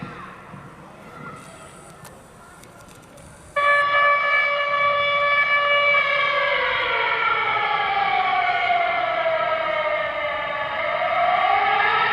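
A loud wailing earthquake drill alarm siren, signalling a simulated magnitude 6.2 earthquake, starts abruptly after a quieter stretch and keeps sounding steadily, its pitch slowly sliding down and rising again.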